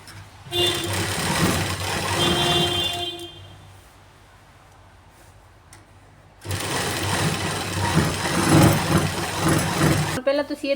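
Sewing machine stitching the hem of a lined salwar, loud fast whirring in two runs separated by a short quiet pause.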